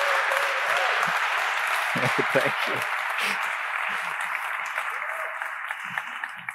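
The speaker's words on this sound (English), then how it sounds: "please give a warm round of applause for our last speaker" Applause from a conference audience for the final speaker at CSS Day 2022, a broad steady wash that fades gradually, with a voice speaking briefly over it.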